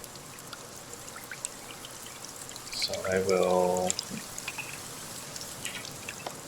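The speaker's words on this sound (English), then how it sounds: "It's raining today" Rain falling in a forest at a survival camp: a continuous patter of drops with a louder rush of pouring water for about a second in the middle, and a voice speaking briefly over it.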